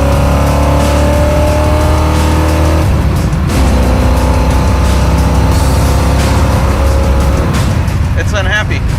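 A loud car engine with dual exhaust pipes roars and revs, its exhaust droning deep and rising in pitch, with shifts in tone and a brief voice near the end.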